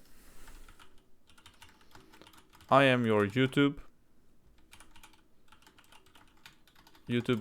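Soft keyboard typing clicks away in scattered bursts while a person talks over it; the keystrokes are faint and close.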